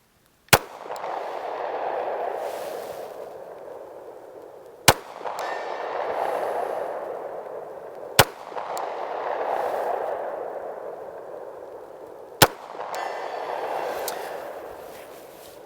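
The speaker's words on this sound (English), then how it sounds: "Let's go ahead and see if we can get a round on that target." Pistol rounds are fired at a steel target around a vehicle: four loud, sharp reports spaced roughly four seconds apart, each followed by a long, rolling echo that fades slowly, with no talking.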